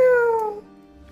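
A human voice imitates a cat's meow: one short, clear, close cry that slides downward in pitch and fades within about half a second.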